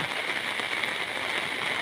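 Heavy storm rain pours down in a steady, dense hiss that stays even and loud throughout the brief stretch.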